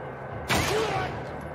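A single sharp gunshot in the video game The Last of Us Part II, a loud sudden blast with a short noisy tail over a quiet background.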